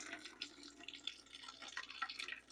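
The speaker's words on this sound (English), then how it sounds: "we still have some banana water left in the pot. We're going to just add that in here." Leftover banana water poured from a pot through a small strainer during home winemaking: a light, steady trickle with drips and splashes, faint and close, with no talk.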